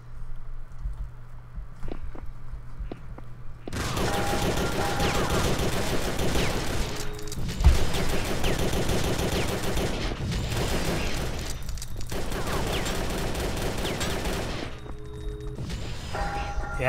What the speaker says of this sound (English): We'll just get killed by those pistols, because they pack a wallop, even when not in our hands.